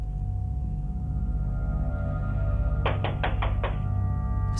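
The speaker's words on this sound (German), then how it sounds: "Es klopft an einem Haus." Repeated knocking on a house door at night, five quick raps in a tight burst, close and distinct over a steady low background hum.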